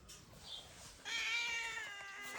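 A black cat meows in a kitchen, with a couple of short cries early on and then a louder, drawn-out, close meow that continues through most of the moment.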